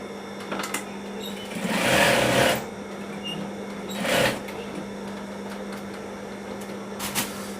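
A sewing machine stitches torn underwear, its motor whirring in two short bursts over a steady background hum, moderately close.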